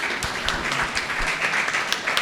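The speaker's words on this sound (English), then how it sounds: "Let's all give a big round of applause for the whole panelists." Applause from a panel discussion audience at a journalism college in Chennai, a steady moderate wash of clapping with a few sharper individual claps standing out.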